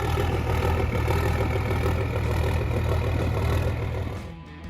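An Allis-Chalmers 8550 tractor engine runs with a loud, steady, low diesel rumble, holding constant before easing off slightly at the end.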